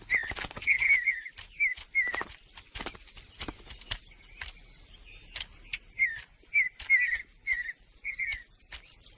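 Small birds sing in Yellowstone's high country in spring, with scattered short whistled phrases and chirps repeating at irregular intervals, moderately near over a quiet outdoor background with occasional soft knocks.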